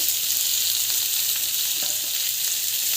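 Fennel and cumin seeds sautéing in a pan for a mutton gravy, giving a loud, continuous, crackling sizzle that holds steady throughout, close up and without talk.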